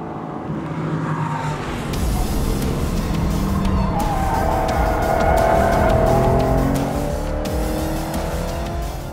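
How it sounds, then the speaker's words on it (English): Ford GT40 replica powered by a 650 horsepower fuel-injected Ford Coyote V8 driving hard on a race track, its engine roaring loudly and continuously throughout, with tire noise under the steady engine note. "it's powered by a 650 horsepower fuel-injected Ford Coyote V8"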